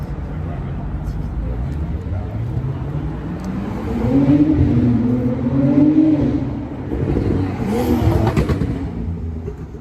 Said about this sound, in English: Lucky that Porsche didn't run under us.